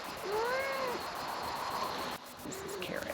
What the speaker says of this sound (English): That's the cat. Don't bother the cat.